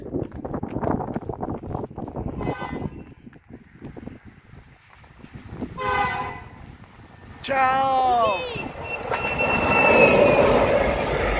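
A Belgian locomotive runs along a Slovak railway, its rolling rumble joined by high, sliding wheel squeals that swell into a loud passing roar, while people nearby talk and call out.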